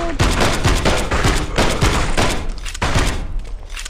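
Rapid bursts of gunfire in the VR zombie shooter Death Horizon: Reloaded, loud repeated shots in quick succession with heavy thumps, dense and continuous throughout.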